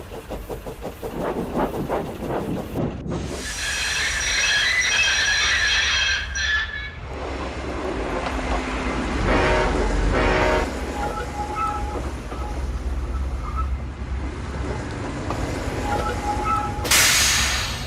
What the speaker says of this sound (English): As Thomas was making his way to Knapford, he could hear the purr of a diesel coming closer and closer